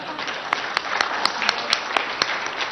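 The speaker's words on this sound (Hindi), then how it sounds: "आपने मेरे स्वागत में जो घनघोर तालियां बजाई" Audience applause at a Hindi poetry gathering: a steady wash of clapping with sharp, evenly spaced loud claps standing out near the microphone about every quarter second.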